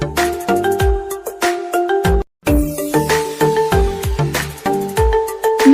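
A phone ringtone plays loud and close, a bright repeating electronic melody of plucked tonal notes with a thumping bass pulse, briefly cutting out before resuming.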